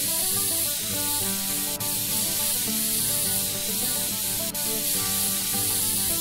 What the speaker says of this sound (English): Yes, spray paint that motherfucker in.